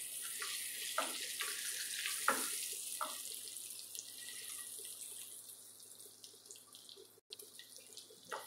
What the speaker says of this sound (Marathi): सगळ्या बाजूने छान फ्राय करून घेऊ अंड्यांना.